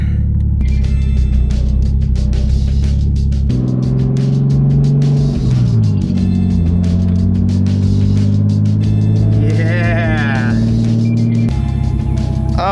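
A Nissan R33 GT-R with wide front fenders pulls away, its engine note loud and steady throughout, shifting in pitch as it rolls off, with some voices mixed in.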